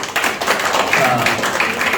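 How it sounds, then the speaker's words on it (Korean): An audience claps together in a lecture hall, a brief, fairly loud round of applause with a voice speaking briefly over it. "박수 한번 주시죠"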